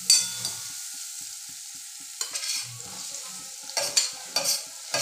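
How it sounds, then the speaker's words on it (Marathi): Onions with turmeric and asafoetida sauté in oil in a pan with a steady sizzle, broken by a few louder scraping stirs of a spoon near the end, no voices. "तर आता हळद आणि हिंग कांद्यावरती टाकलेलं आहे, ते व्यवस्थित परतून घेणार आहोत."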